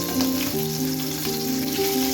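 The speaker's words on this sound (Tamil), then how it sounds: "ஒரு பாத்திரத்தில் எண்ணெய் ஊற்றி எண்ணெய் சூடானதும் கட் பண்ணி வச்சுருக்க பன்னீர் அதில் சேர்த்து பொன்னிறமாக வறுத்து" Cubes of paneer fry in hot oil in a pan for Dhaba-style palak paneer matar masala, a soft, steady sizzle with faint bubbling, heard on its own without talk.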